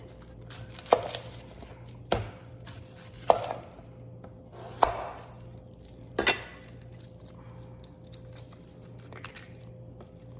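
An onion being chopped on a cutting board: about six sharp, separate knife strikes at uneven intervals, close and clear over a faint steady hum, no voices.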